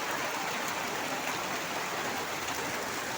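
Steady rain pours down outdoors, a dense continuous hiss that stays even and fairly loud for the whole stretch with no talking over it.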